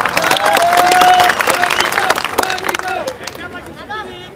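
A large crowd at a political campaign rally claps and cheers in a loud, dense burst of applause that fades over a few seconds, with voices and chatter mixed in.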